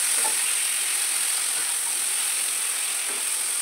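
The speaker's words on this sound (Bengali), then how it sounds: "সব আস্তে আস্তে আমি হলুদ নুন দিয়ে একটু কষিয়ে নিচ্ছি" Mixed vegetables with beans sautéing in a pan with turmeric and salt give off a thin, even hiss that holds steady throughout, with faint clicks and no voices.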